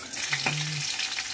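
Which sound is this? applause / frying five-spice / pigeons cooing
frying five-spice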